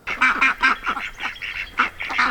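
A flock of farm ducks quacks loudly and close by, a rapid run of overlapping nasal calls in uneven bursts with no talk over them.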